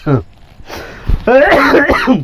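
A man clears his throat and gives a rough cough, close by, mixed in with strained, groaning vocal sounds.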